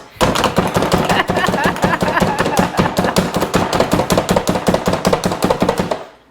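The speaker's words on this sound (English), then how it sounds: "So he's gonna chop." A knife chops rapidly and repeatedly on a cutting board in a fast, even rhythm, loud and close, with no one speaking.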